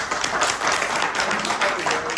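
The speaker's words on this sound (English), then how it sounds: "Can we give them a round of applause, please?" Small audience giving presenters a round of applause at an evening meeting, a loose patter of hand claps, close and moderately loud, continuing steadily without talk.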